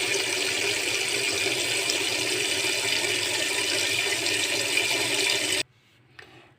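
Cold water pours steadily from a tap over lemons for several seconds in a loud, continuous rush, then stops abruptly, leaving faint splashes and drips.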